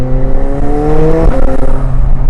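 McLaren 720S sports car revving hard under acceleration in sport mode, its loud engine tone climbing in pitch then dropping sharply at an abrupt gear change before rising again, continuous and close with no talk.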